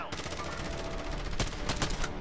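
Rapid gunfire bursts in the battle royale shooter Call of Duty Warzone, with several sharp shots clustered near the end over a continuous dense game soundscape.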